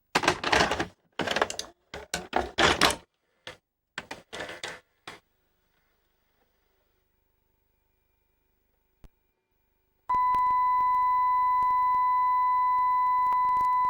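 A steady, constant test tone plays back from color bars recorded on a National NV-870 HiFi VCR, starting abruptly after a stretch of clattering handling noises and silence, and holding loud and unchanging to the end.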